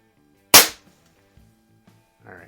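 A single sharp crack from a Barra Schofield 7-inch chrome CO2 BB revolver being fired, loud and close, decaying quickly into near silence with faint handling clicks afterward.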